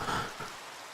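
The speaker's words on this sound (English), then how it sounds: "rain sounds" Rain falls in the video game Minecraft as a soft, even patter, faint and brief, with no other sound over it.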